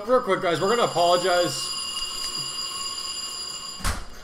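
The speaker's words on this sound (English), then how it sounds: "The fire alarm went off in the back." A building fire alarm sounds steadily in the background, a continuous high electronic tone behind someone talking in the foreground.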